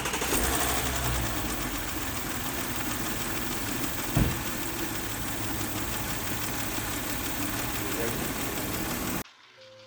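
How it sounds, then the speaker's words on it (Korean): A Porsche Cayenne engine runs with its under-cover and air duct removed, making a steady, rapid, regular ticking over a continuous mechanical drone, with one brief louder knock partway through, before cutting off abruptly near the end. "이 소리 자체가 규칙적으로 이렇게 딱딱딱딱딱 하는 이런 소리가 들리거든요."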